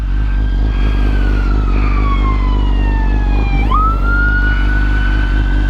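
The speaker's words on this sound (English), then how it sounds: "I hear sirens. Is that from behind? Yep, it's from behind." An emergency siren wails up and down loudly behind a BMW S1000RR motorcycle over the low rumble of traffic, its pitch sweeping downward before jumping back up.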